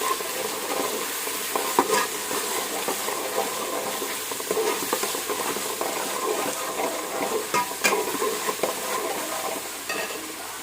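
Ground ginger-garlic paste and spices frying in a pan for a country chicken curry, with a continuous close sizzle and frequent stirring scrapes throughout.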